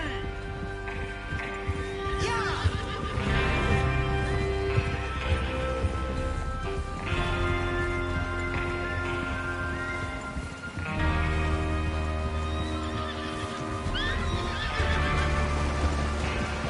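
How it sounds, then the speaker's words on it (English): Horses in a video game whinny repeatedly over steady clip-clopping hooves, loud and close, continuous throughout with a brief dip midway. "Get your horses ready."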